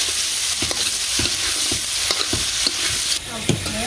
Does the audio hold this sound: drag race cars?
no